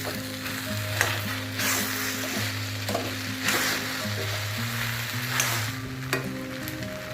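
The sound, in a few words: khichdi cooking in a wok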